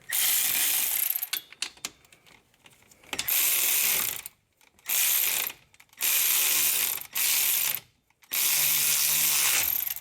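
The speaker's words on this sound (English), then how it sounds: "then you can use your ratchet or your electric ratchet to pull the hub assembly in" An electric ratchet draws a front wheel hub assembly inward on a Chevy Impala during a wheel bearing replacement. Loud whirring bursts repeat about five times with short silent gaps between them.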